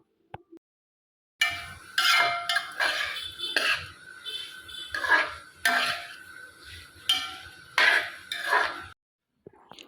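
Crushed garlic and ginger stirred in a pan for Kerala-style chicken curry, with repeated scraping and clinking of a utensil against the metal pan, fairly close and loud, in short bursts with brief pauses.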